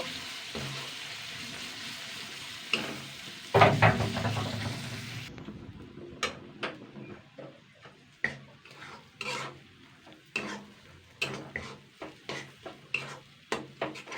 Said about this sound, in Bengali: আর মাছের ডিম ভাজা কিন্তু তাড়াতাড়ি হয়ে যায়